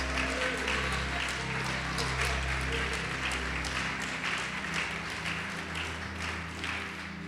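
A church congregation applauding, a dense and sustained wash of clapping from many hands over a low organ or keyboard drone, steady in loudness and tapering slightly toward the end.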